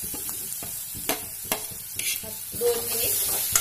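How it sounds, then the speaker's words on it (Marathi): Grated raw mango sautés in hot oil in a pan, a close sizzle broken by sharp spatula scrapes and stirring knocks at an uneven rhythm. "छान दोन मिनिट छान कैरी मी तेलामध्ये परतून घेतलेली आहे"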